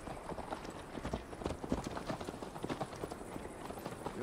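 Rapid, rhythmic clip-clop of a galloping horse's hooves in Assassin's Creed Valhalla, close and steady throughout with faint ambient game sound behind.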